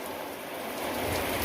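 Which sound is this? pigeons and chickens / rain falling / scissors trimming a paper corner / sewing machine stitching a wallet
rain falling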